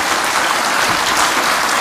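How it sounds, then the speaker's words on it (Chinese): An audience claps warmly for two speakers at a book launch and Buddhist forum, a dense continuous burst of applause filling the room, loud and steady throughout. "我们是不是再次以热烈掌声谢谢两位老"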